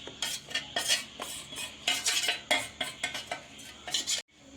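Ground batter for pappadavada being scraped from a grinder jar into a bowl, with a quick series of clinking spoon-on-metal scrapes and taps in an irregular rhythm, close and fairly quiet.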